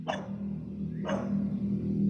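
A dog barks twice about a second apart, sharp and moderately close, over a steady low background hum.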